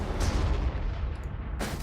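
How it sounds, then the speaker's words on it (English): Artillery fire in the Warhammer 40,000: Armageddon video game: two heavy booming blasts, one at the start and another near the end, with a rumbling roll between them. "Get some artillery on them."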